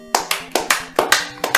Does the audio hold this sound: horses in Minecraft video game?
no